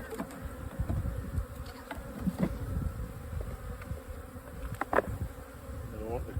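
Honey bees buzzing around their hive during an inspection, a soft dense hum with individual bees droning past close by, faint and continuous.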